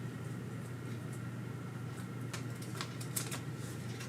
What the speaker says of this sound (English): I will do the casino shuffle that everyone wants me to do.